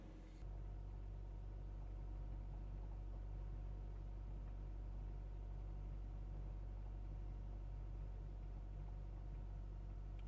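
A 2003 Honda Jazz engine held at raised revs to warm up, a low, steady, even rumble that continues unchanged throughout, heard alone at moderate distance.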